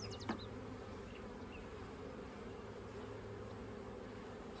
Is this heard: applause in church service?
no